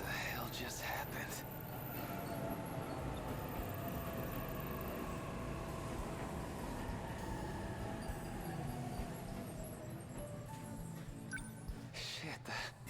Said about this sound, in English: the train. It just went off the rails